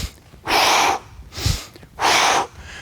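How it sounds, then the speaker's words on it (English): Three forceful, rhythmic breaths puff out during bodyweight squats at a bootcamp workout, each a loud, close, airy burst separated by brief quiet pauses. "Working a little bit of anatomical breathing as I go."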